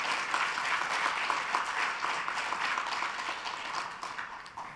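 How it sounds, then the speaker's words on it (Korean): Applause from an audience thanking a lecturer after a talk and Q&A session, a full, steady patter of many hands that gradually thins and fades near the end. "짧은 시간에 열정적인 강의와 질의응답해주신 의원님께 다시 한번 감사의 박수 부탁드립니다."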